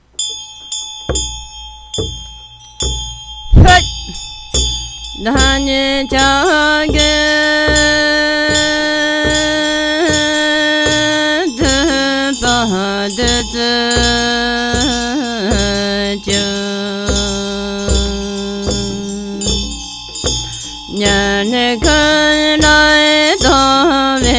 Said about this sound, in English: damaru and the bell, they all go fast together with the melody